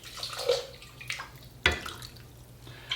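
Water pours from a cup into a curry pot, giving faint gurgles and splashes with one sharper splash midway, quiet and close, with no talking.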